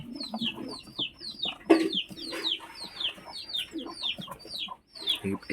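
Pigeons kept in a home loft, one of them three years old, give repeated short chirping calls in a steady rhythm, fairly close and clear, with a few low clucking notes underneath and no talking.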